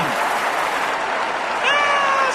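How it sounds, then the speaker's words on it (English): Applause from a crowd rolls on steadily and densely, with a cat-like meow rising faintly near the end over the clapping. "Slow clap."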